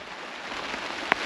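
Rain patters steadily on a tent tarp and awning during a cold mountain storm, a soft even hiss with a single sharp drop striking near the end.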